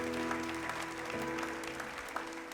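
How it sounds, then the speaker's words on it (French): Church congregation applauding loudly after a call from the preacher, a dense steady clapping that fills the room, with some tonal background sound underneath. "que tous ceux qui le croient applaudissent bien fort"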